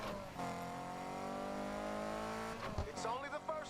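A race car in a driving video game, its engine holding a steady rising whine with a harmonic tone, then a quick gear change and tire squeal toward the end, mixed with a voice.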